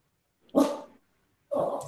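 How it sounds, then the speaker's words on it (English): A hungry pet dog lets out two short barks, close and fairly loud, separated by a second of silence in an otherwise quiet indoor room. "I have a hungry dog here."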